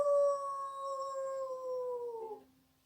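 A voice imitates a wolf howling, giving one long, clear, sustained howl up close. The tone stays level and then falls away into silence near the end.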